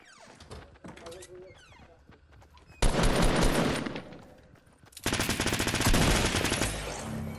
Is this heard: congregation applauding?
no